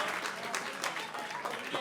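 Audience applause for a player at a Dissidia Final Fantasy tournament at PAX 2018, the French championship, with dense steady clapping throughout, fairly faint and distant, with a voice faintly mixed in.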